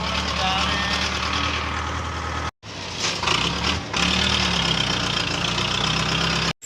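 A tractor engine runs steadily after starting, a loud continuous knocking idle that cuts out briefly twice, with voices talking over it.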